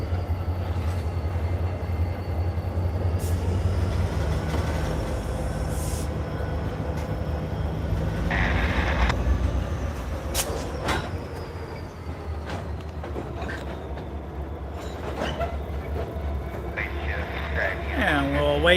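Freight train cars rumble in a rail yard, with a low steady rumble, metallic clanks and bangs from coupling, and occasional squeals, heard from a distance.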